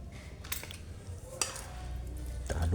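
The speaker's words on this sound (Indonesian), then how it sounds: "Kita aduk bolo jadi satu." Scraping and clinking of a spoon stirring a thick carp fishing bait mixture in a bowl, made with coconut milk, with irregular strokes and light knocks against the bowl under a steady background hum.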